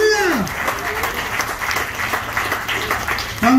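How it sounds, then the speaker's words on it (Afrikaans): A church congregation claps together after a call to applaud, a dense continuous patter throughout with a voice speaking over it at the start and end. "Kom ons klap vir hom."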